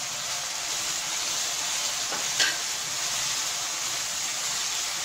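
Spring onions go into a lamb brain curry in a restaurant-style Lahori dish, and the pan gives a steady, close sizzle with a brief stirring scrape near the middle. No one speaks.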